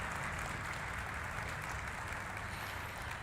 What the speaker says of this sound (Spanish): Un fuerte aplauso para ellos, por favor.